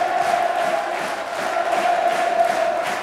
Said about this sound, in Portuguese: A torcida está em festa.